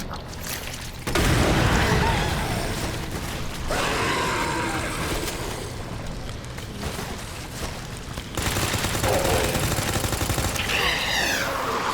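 Video game gunfire in Resident Evil 2, a long run of loud rapid shots with mechanical clatter, breaking off briefly and then starting again, with grunts and gasps mixed in.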